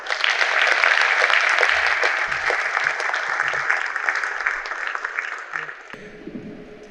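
Audience at a Korean smart water grid society conference opening ceremony gives a warm round of steady applause to welcome a speaker, fading out after several seconds.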